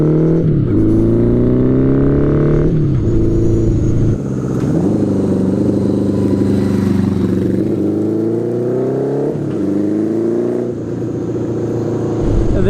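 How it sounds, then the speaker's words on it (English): A custom 1980s Honda Goldwing motorcycle pulls out onto the road, its engine revving up and shifting through several rising and falling pitch sweeps, loud and close with no talk. "first time pulling out onto the road on my dad's very cool, very custom Goldwing"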